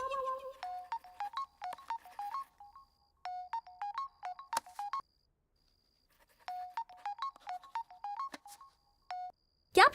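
A phone ringtone plays a repeating electronic melody in bursts of quick tonal notes, with a short gap between phrases, fairly quiet and steady.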